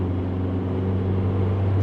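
Steady low drone of a 68bhp non-turbo Volkswagen Caddy SDi diesel van cruising at about 60 mph and 2,800 rpm, a constant engine hum with road and wind noise filling the cabin, no voices.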